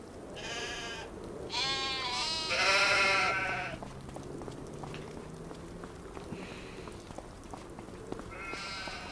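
Sheep in the Farming Simulator 25 video game bleating several times in clustered calls over the first few seconds, then a fainter bleat later, with soft patter and ambient farm noise.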